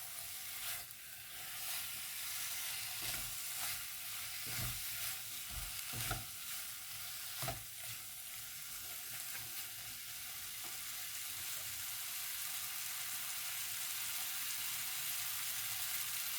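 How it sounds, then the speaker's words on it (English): Smooth peanut butter is stirred into sizzling mole sauce for a venison mole pie. Quiet continuous frying hiss runs throughout, with scattered spoon scrapes and taps against the pot and no talking. "Incorporate your smooth peanut butter."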